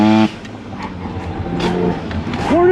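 A Porsche accelerates hard, its engine building in a continuous loud roar after a short idle, with a brief rising tone near the end.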